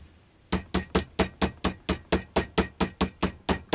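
Metal hammer blows ring on a small anvil during leather sporran making, a steady run of about fourteen sharp, evenly spaced strikes, close and loud, with no talking.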